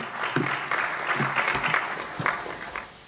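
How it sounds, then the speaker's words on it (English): Audience applause at the Kenya Space Innovation and Investment Forum 2025, a sustained burst of clapping from a seated crowd in a hall, moderately loud and fading toward the end. "Just please give her a round of applause as she gets back to her seat."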